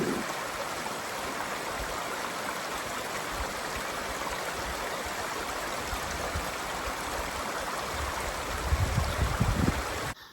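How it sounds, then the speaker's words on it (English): A mountain creek beside a hiking trail in the Cline River area rushes continuously, a steady broadband wash of flowing water with a brief louder surge near the end and no voices. "So we just passed the creek"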